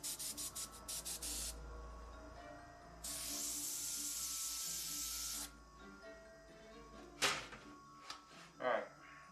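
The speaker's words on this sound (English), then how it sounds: "I hear noise in my airbrush." An airbrush in a studio gives off short broken bursts of airy hiss, then a longer steady hiss of spray. It is faint and close, with a few knocks and rubbing noises after it.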